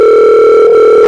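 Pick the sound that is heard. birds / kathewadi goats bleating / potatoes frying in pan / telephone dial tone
telephone dial tone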